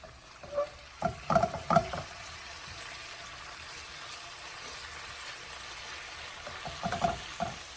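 Zucchini noodles being tossed with light soy sauce in a pan, a few bursts of scraping and clatter from the utensil over a soft background sizzle, then a quieter stretch before more stirring.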